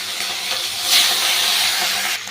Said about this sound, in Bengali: দেখুন তেল হিট হয়ে গেছে, এর মধ্যে আমি যে মাছের মাথাগুলো ছিল সেইগুলোকে আমি এর মধ্যে ছেড়ে দিলাম